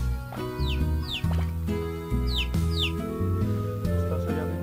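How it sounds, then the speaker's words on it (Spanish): Chirps from a chick in the video game Slime Rancher, short high peeping calls in two pairs over steady game background music. "Hay otro pollito."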